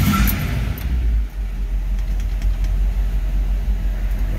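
A 1964 Chevrolet Impala SS idles after a cold start, a low, steady engine rumble with a slight dip near the start and faint mechanical ticking, heard alone without talking.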